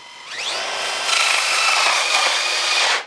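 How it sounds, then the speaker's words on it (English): A power drill spins up with a rising whine, then holds a steady high-pitched drilling tone for a few seconds while drilling into foam, before stopping abruptly. "And then we just drill where we want it to go."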